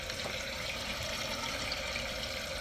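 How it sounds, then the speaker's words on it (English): Water pours steadily into a toilet bowl during a new drain installation, a continuous broadband rush and hiss with no break, close and fairly loud. "And you can adjust how much water goes inside the bowl."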